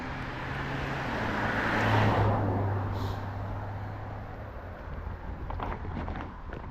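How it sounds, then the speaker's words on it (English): Road traffic heard while walking outdoors, a broad steady whoosh of a passing vehicle swelling and fading, then continued low roadway hum with faint wind. "Now we'll get rid of all the traffic and the noise."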